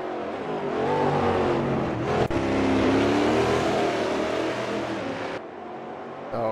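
Loud, sustained engine roar of the number 10 Shell V-Power car on an onboard lap in a racing video game, holding a high rev note with shifting pitch and a brief dip near the end.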